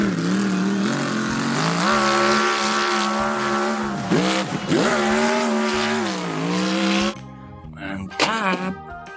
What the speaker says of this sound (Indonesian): Wow, mobil monster.